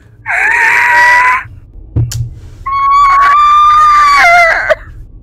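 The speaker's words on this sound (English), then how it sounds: "It was a scream." A scream in the GTFO video game: two loud, shrill, wailing cries, the first short and the second longer and rising, separated by a brief thump.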